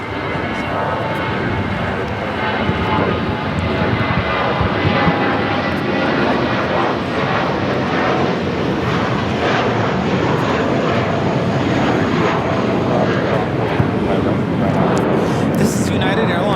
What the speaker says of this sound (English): This is United Airlines 2019 taking off to San Francisco on the A320